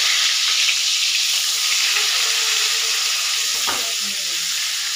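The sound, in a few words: eggplant frying in mustard oil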